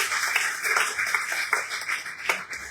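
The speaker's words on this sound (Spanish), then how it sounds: "Denle un aplauso a Dios en esta mañana." Church congregation applauding during a Spanish-language service, a brisk patter of many hands clapping for a few seconds with uneven rhythm and occasional sharper claps.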